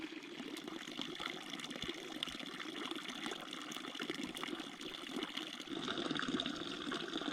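Water flows steadily through the Bendola river in summer, a continuous broadband rushing and trickling wash that stays even and fairly near throughout, with no voices.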